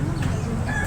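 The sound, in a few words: Asil cross rooster clucking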